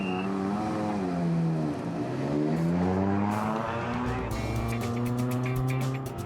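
Rally cars on a slippery track built from parts of the Salzburgring circuit accelerate hard, engines rising and falling in pitch through gear changes, loud and close, with crackling exhaust pops toward the end and no talk.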